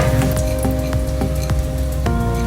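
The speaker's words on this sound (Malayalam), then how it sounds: "ഇതിൽ നമ്മളിനി ഉള്ളിയൊക്കെ ഇട്ട് ഫ്രൈ ചെയ്യാൻ പോവാം" Onions, chillies and cardamom frying in a pan give a loud, steady sizzle, with clicks and clatters of stirring scattered through it.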